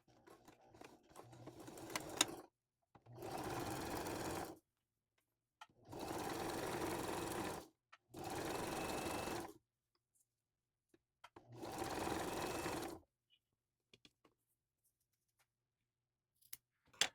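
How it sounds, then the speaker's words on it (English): A sewing machine stitches a zipper into a sweatshirt sleeve, running in four steady bursts of about two seconds each with short pauses between, close and fairly quiet, with no talking. "So I'm sewing it in."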